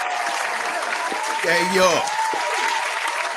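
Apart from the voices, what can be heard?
audience applause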